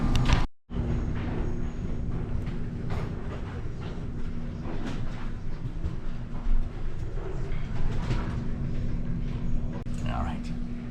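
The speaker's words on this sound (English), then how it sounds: "So anyway, so we're back on the train." Steady low rumble and rattle inside a moving train cabin, with continuous rolling noise and faint clicks throughout, no one talking.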